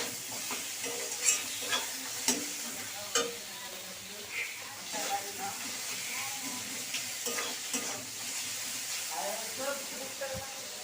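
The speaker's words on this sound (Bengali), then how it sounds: "হলুদ, দিয়ে ভালো করে এটাকে কষিয়ে নেব মশলাটাকে" A spice paste with turmeric for a morola fish curry sizzles in the pan while a spatula scrapes and knocks at intervals, moderately loud, with steady frying hiss underneath.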